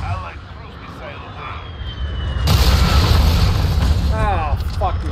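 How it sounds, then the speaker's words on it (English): A cruise missile explodes in Call of Duty Modern Warfare during a hardcore Headquarters match: a sudden loud boom and rumble midway through, over sirens and voices talking. "Cruise missile just blew his fucking bolt up."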